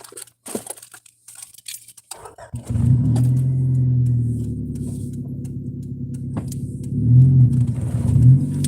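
A car driven with its emergency brake still engaged. Light clatter comes first, then the engine takes over as a steady, close drone with a grinding rumble that swells toward the end.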